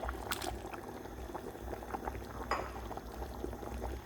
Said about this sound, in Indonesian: Dan yang terakhir, kita masukkan udang ya teman-teman,